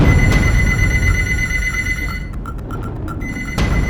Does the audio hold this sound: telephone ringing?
yes